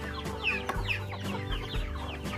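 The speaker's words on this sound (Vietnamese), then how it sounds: "Fanny Hùng ăn cùng đàn gà." A flock of chickens clucking steadily and densely up close, with overlapping low clucks and occasional higher calls forming a continuous farmyard chatter.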